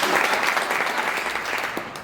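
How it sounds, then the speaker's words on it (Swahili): A short burst of audience applause, steady clapping from a crowd held at an even level for about two seconds. "Hebu pigeni huyo jamaa makofi"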